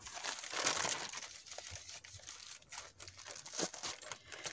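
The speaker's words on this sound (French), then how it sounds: "c'est un emballage également de gants pour procéder à des actes chirurgicaux que j'ai récupéré" Thin plastic packaging from surgical gloves is crinkled and handled close up, giving a continuous soft crackling rustle with no talk.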